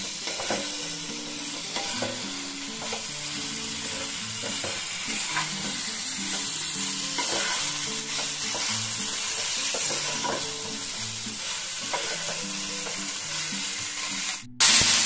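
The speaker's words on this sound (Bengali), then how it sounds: "এবার সমস্ত কিছু একটু মিশিয়ে নেব।" Cauliflower, tomato and potato curry stirred in a frying pan, a steady sizzle under repeated scraping strokes of a spoon against the pan, close and even, ending with a brief clunk.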